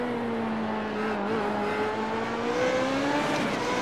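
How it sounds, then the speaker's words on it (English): A race car engine roars steadily in the iRacing sim, a loud sustained high-revving tone likened to a 90s F1 car, its pitch rising and dipping slightly with gear changes and no talking over it. "The noise is just relentless. Yeah. It's like a 90s F1 car."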